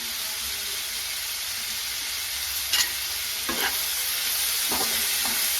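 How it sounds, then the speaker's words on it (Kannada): Chopped tomatoes frying with turmeric powder in a pan for a rice dish: a steady, close sizzling hiss with a few brief scraping stirs near the end, and no voices. "ಟೊಮೆಟೊ ಹಾಕೊಂಡು 1 ನಿಮಿಷ ಫ್ರೈ ಮಾಡ್ಕೊಂಡಿದ್ದೀನಿ. ಇವಾಗ ಅದರೊಳಗಡೆ ನಾನು ಅರಿಶಿಣ ಪುಡಿನ ಹಾಕೊಳ್ತಾ ಇದ್ದೀನಿ."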